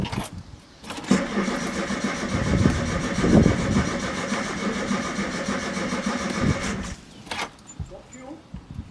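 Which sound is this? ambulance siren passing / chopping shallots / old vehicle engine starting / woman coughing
old vehicle engine starting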